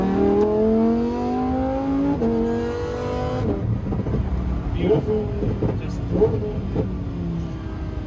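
A Lamborghini STO accelerates on the Nürburgring, its engine note climbing through rising sweeps with shifts between them, loud from inside the car, while a voice speaks briefly over it.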